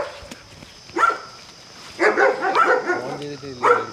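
Dogs barking on a farm, several sharp bursts of barks at around one and two to three seconds, fairly close, with a brief yip near the end and no talk.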